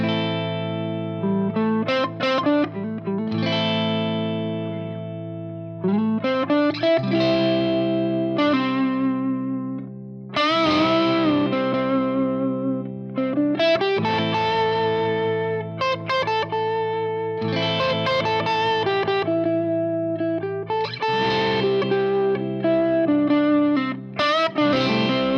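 Electric guitar through effects playing pentatonic scale phrases over a looped chord progression moving from minor to major and back, distorted sustained notes in a continuous flowing line, upfront with no talk.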